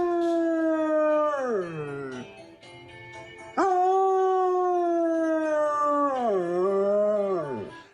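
A dog howls in two long drawn-out wails, each rising then sliding down in pitch with a break between, close and clear with no talk.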